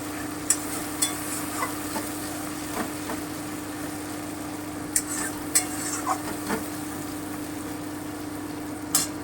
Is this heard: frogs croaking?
no